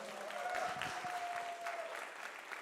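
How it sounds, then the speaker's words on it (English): Audience applause at a battle of the bands show, steady clapping from a crowd that holds at an even level for the whole stretch without any talking. "Big round of applause."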